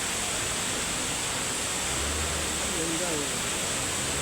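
A waterfall at a scenic spot in Antipolo roars as a steady, broadband rush of falling water that fills the whole clip, while a person speaks briefly over it.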